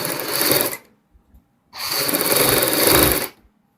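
A sewing machine stitches piping onto a kurti neckline in two close bursts, a short run followed after a pause by a longer steady run.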